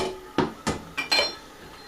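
Spoon stirring a dragon fruit wine mixture in a container, four quick, sharp scraping knocks against the sides in an uneven rhythm, close and fairly quiet, with no voices.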